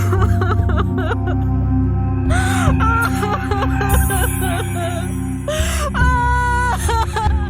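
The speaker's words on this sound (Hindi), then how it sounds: "कुछ देर बाद हमें किसी औरत की रोने की आवाज़ सुनाई देने लगी।" A woman's wavering, drawn-out crying and moaning at night, eerie and close, rising and falling in broken sobs over a low, sustained droning background for horror effect.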